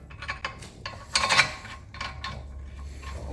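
A new bolt being fitted into the steering knuckle of a 2016 Honda Civic, a few short metallic scrapes and clicks with one louder grinding rub in the middle, close and quiet against a low hum.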